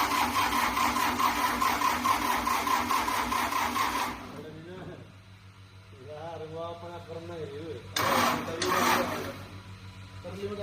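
A newly fitted four-cylinder engine in a Swaraj tractor, with an oil leak at the nozzle, starts and runs with a rhythmic, buzzing chug. The engine fades under a voice, then surges loudly again.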